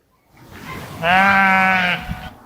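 A sheep gives a single long, wavering bleat that starts clearly and holds for about a second, close by and loud, with a low rustle before it and a brief thump afterward.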